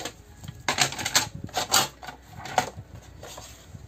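Paper is cut straight for a craft project in a few quick, close bursts of crisp slicing and crackling, separated by short pauses.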